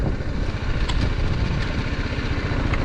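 A BMW motorcycle engine running steadily while riding on a California road trip, a continuous mid-pitched drone mixed with wind rush, fairly loud and close.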